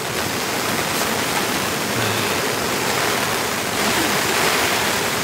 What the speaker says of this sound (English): It's quite stormy.